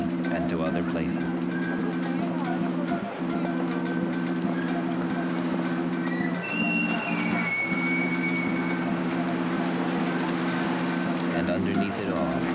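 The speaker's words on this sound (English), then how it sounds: "underneath it all, you can hear the rumble of the subway" A subway rumbles as a steady, continuous low drone beneath a city soundscape, with a few brief dips in the sound.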